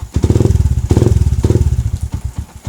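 A Yamaha MX King motorcycle's electric starter cranks in loud, rapid, rhythmic pulses close by, then the engine catches and chugs briefly with a steady, uneven idle.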